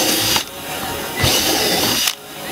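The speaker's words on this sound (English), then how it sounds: "Line it up and drill the holes through the boat." Power drill boring holes through the plastic hull of a Jackson Kayak Cuda for a rudder system, a loud continuous whine with brief dips as the bit breaks through, close and alone.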